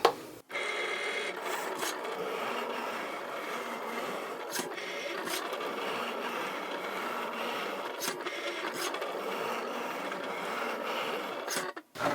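A Cricut machine with a rotary blade cuts cork on a fabric setting, giving a continuous soft rasping, scraping hum for about eleven seconds with faint periodic clicks from the carriage, close and moderately quiet.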